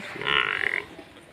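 A tall, long-bodied dairy buffalo, fresh after her third calving, lets out one short, deep grunt up close, a rough rumbling burst lasting about half a second before fading into quiet outdoor background.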